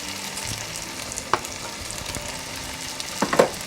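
Sweet potato croquettes fry in hot oil with a steady, fairly soft sizzle, broken by a couple of sharper splatters and clacks near the end as more pieces go into the pan.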